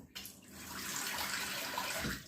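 Warm water running steadily from a tap for shaving, a continuous hissing splash that starts abruptly and flows for about two seconds before easing off, close and moderately loud with no talking.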